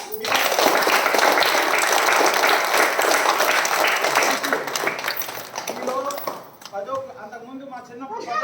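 An audience at a flag-day gathering claps loudly and densely for about five seconds, then the clapping fades and a person starts talking.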